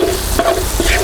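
Onion hitting seasoned oil in a pan for a restaurant-style chicken korma produces a loud, close, continuous sizzle in one brief burst, with no talk.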